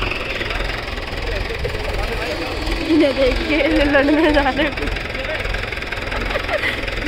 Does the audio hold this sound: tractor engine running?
yes